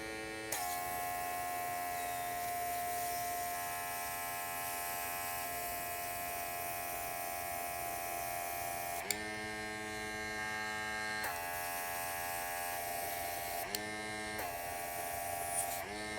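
A Young Nails cordless airbrush runs with a steady, close electric buzz, cutting out and restarting a few times near the end.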